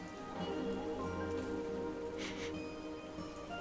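Steady rain falls on a surface, a dense continuous patter of close drops with a faint low rumble beneath and no voices.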